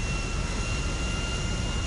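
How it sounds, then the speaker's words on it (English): A stolen jet in GTA 5 roars with a steady, broadband engine rush, continuous and fairly loud throughout with no talking over it. "About to steal this jet though."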